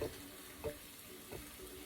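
Salmon cake burger frying over medium heat in a pan, a steady soft sizzle with a few brief louder stirring or shifting bursts, no talking.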